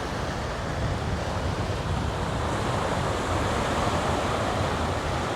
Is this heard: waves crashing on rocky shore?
yes